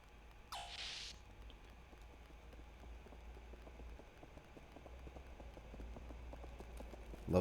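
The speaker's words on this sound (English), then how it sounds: "Love the little Foley work for the sound of footsteps rushing by." Rapid footsteps rushing by in the Xenogears video game, a dense faint patter of many quick steps continuing steadily over a low background hum.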